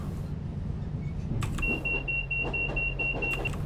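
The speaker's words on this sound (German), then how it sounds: "Was piepst da? Wieso piepst die außen?" Steady high-pitched electronic beep sounding from outside a train in the Train Simulator 2016 game, Western Mainlines route, starting partway through and holding continuously over a low engine rumble with a few clicks.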